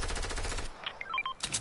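Rapid gunfire in a video game, a dense burst of shots followed by scattered electronic blips and another short burst, fairly close and with no talk.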